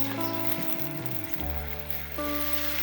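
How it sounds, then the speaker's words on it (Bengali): Onion, garlic and ginger paste frying in a pan gives a steady, hissing sizzle that runs the whole time beneath sustained background music. "এখন এটাকে একটু নেড়ে চেড়ে কষাই নেব 2 থেকে 3 মিনিট।"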